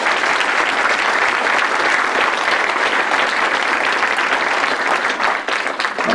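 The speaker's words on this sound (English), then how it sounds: "Steve, another round of applause, please, to Steve" Loud, dense audience applause at a Memorial Day ceremony honoring a veteran, steady for several seconds before thinning slightly near the end.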